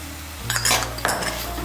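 Water is mixed into a mustard-poppy spice paste in oil in a pan for an ash gourd jhal. A brief spell of a spoon scraping and clinking against the pan sits over a low sizzle, close by and without speech.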